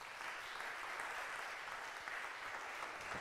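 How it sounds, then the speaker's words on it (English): Audience applause welcoming a speaker at a talk, a steady dense wash of clapping from many hands, heard from a distance and fairly faint, with no pauses. "Please welcome me with vibrant applause, and our speaker, Tayo Rockson, is coming up."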